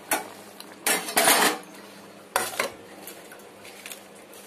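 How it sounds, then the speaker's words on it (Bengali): Fish pieces going into a pot of boiled potatoes, a couple of loud close clatters and scrapes of utensils against the metal pot, separated by quieter pauses, with no talking. "এবার আমি মাছগুলোকে দিয়ে দেবো"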